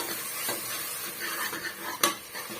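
Masala paste for mutton kuzhambu sautéing in a pan, with a soft continuous sizzle and clinks of a metal spoon against the vessel. One sharp scrape comes near the end, and nobody speaks.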